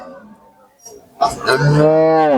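A cow calf at a cattle market gives a loud, drawn-out moo close by after a second of quiet background sounds, the call sustained to the end.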